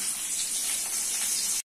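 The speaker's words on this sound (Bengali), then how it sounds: "গরম হয়ে গেছে, দিচ্ছি পেঁয়াজ কুচি।" A brief burst of loud, steady sizzling as chopped onions go into hot oil, cutting off abruptly after about a second and a half.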